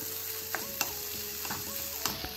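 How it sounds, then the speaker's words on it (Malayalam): Prawns frying in a pan for a Kerala-style meal: a continuous close sizzle with intermittent scraping and stirring clinks of a utensil against the pan. "ചെമ്മീൻ ഇതുപോലെ ഫ്രൈ ചെയ്തെടുക്കുന്നു"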